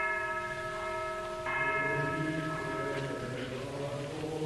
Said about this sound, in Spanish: La campana vespertina.